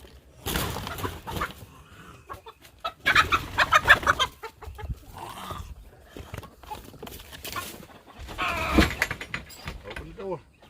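Chickens clucking close by in irregular bursts as birds are moved to a new home, with people talking over and between the calls.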